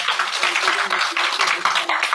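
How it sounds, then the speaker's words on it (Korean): Sustained applause from a lecture audience for an ambassador at a global citizenship colloquium, many hands clapping steadily and fairly loudly with faint murmuring beneath. "우리 마리아 대사님께 한번 박수 부탁드리겠습니다"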